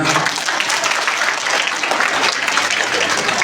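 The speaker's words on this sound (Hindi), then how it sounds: "इन नन्हे मुन्ने भैयाओं के लिए एक बार जोरदार तालियां" School annual-function audience clapping loudly for young boys after their Hanuman Chalisa performance, a dense, close, sustained burst of many hands that stays strong throughout.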